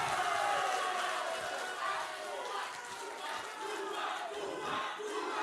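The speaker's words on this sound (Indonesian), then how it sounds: "Sekarang saja kita berikan tepuk tangan untuk para pasangan calon." A crowd at a regional election debate for district head candidates in Dompu bursts into applause mixed with shouts and cheering, a dense loud roar that persists for several seconds with voices calling out.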